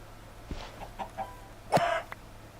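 A Minecraft video game chicken clucks several times in short, separate bursts, ending with a louder, sharper cluck near the end. It is close and clear, with no talk over it.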